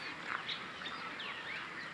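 Ducks on a netted duck farm in Ashulia, Savar, where several thousand birds are kept, giving faint, scattered quacks and calls over a low background for about two seconds.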